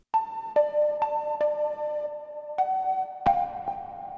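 Dry synth preset for a nostalgic jungle or drum and bass track, playing a sparse series of bell-like plucked tones with clean attacks and sustained ringing pitches, stepping between two notes, alone and fairly close.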